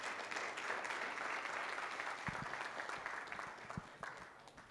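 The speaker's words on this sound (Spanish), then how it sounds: "le pido un aplauso para él" A lecture audience applauds to welcome a doctor presenting on first-trimester screening and fetal DNA testing, a steady wash of clapping held at an even level throughout, with a few sharper individual claps standing out near the end.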